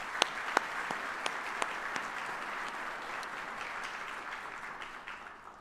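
Applause for an Army band at a Department of the Army retirement ceremony: a fairly quiet, distant-sounding audience clapping steadily, with a few sharper individual claps standing out near the start before it gradually fades.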